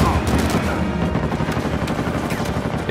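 Sustained automatic fire from the Stoner machine gun in Uncharted 4 survival mode against a boss, a dense continuous rattle of close shots with heavy low thump.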